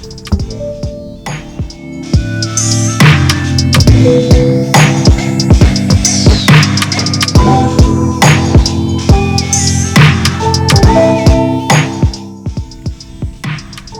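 During a haircut lineup, an airbrush sprays alcohol in a loud, continuous hiss that runs almost unbroken, with sharp clicks and a steady hum mixed through it.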